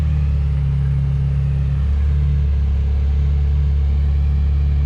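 A Ferrari F355 engine runs steadily at a Scottsdale car meet, giving a loud, continuous low rumble with a constant idle hum close by and no talking.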